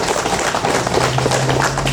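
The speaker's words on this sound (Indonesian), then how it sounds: "Tepuk tangan dulu buat Kabupaten Belu" Crowd applause in a hall in Belu Regency, East Nusa Tenggara, a dense steady clapping that holds at an even level throughout, with a low constant hum underneath.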